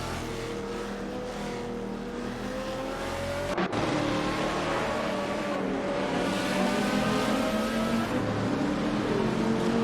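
GTR race cars in a video game race at Mugello roar past with high engine whine and rising revs, gear shifts breaking the pitch, a steady loud racing din with no voices.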